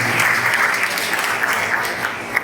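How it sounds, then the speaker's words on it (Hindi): Audience applause at an award ceremony in Ajmer, a dense, steady clapping that fills the space at close range and holds throughout without any talk over it. "इसके लिए जोरदार तालियों से इनका धन्यवाद करें।"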